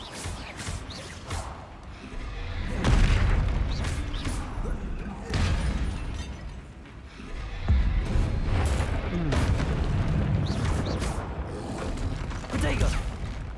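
Repeated Confringo fire-spell blasts in the Hogwarts Legacy video game, booming bursts with whooshes recurring every few seconds over a dense layer of game noise and a talking voice.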